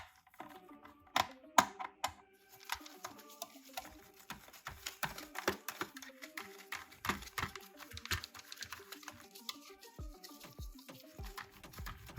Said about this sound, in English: We're gonna wanna use a tri-wing size 0 on these to remove these 6 screws